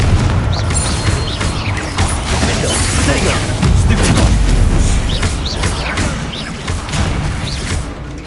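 Confringo spell blasts in Hogwarts Legacy video game, loud booming explosions with crashes and whooshes layered over continuous rumbling combat noise, close and dense throughout with no talking.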